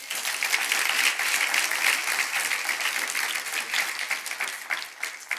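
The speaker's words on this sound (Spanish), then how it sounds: "Denle un fuerte aplauso al Señor." Church congregation applauding together in a sustained burst of clapping lasting several seconds, dense and even with slight swells, and no speech over it.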